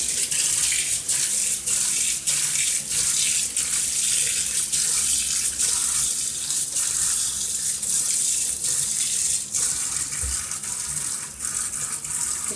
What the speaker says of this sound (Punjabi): ਹੁਣ ਅਸੀਂ ਇਹਦੇ ਉੱਪਰ ਪਾਣੀ ਪਾ ਦਵਾਂਗੇ